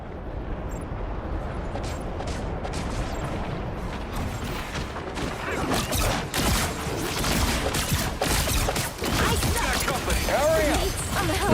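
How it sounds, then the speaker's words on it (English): Fireworks in the video game Marvel Rivals, a dense, continuous crackle of bursts and pops building over several seconds, with a voice talking over it. "Anyone say fireworks?"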